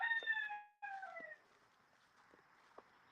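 A rooster crows loudly and close by in a farm field, a long drawn-out call broken into two parts that fades out, followed by quieter background with faint clucks.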